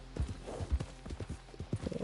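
Horse hooves clip-clopping at a fast gallop in Red Dead Redemption 2, a steady run of close, punchy hoofbeats over two seconds with no talking.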